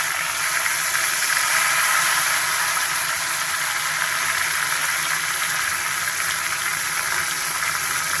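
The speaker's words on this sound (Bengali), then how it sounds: "মাছের মাথাটা দিয়ে দিলাম, সুন্দর করে ভাজাবো।" Continuous loud sizzling and hissing comes from a fish head, rubbed with salt and turmeric, frying in oil in a pan. The sound stays close and even throughout, with no talk.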